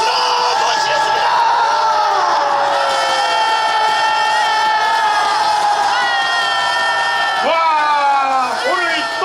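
A big political rally crowd cheers, whoops and claps loudly and continuously, with shouting voices rising over sustained applause as a pastor is welcomed; crowd noise fills everything.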